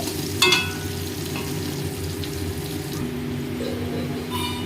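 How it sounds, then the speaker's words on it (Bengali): Potatoes fry in mustard oil in a wok, with a steady, close sizzle and a brief clink of stirring early on, with no one speaking. "কড়াইয়ের মধ্যে আমি তেল দিয়ে দিয়েছি, সর্ষের তেল দিয়ে আলুটা একটু ভেজে নেব।"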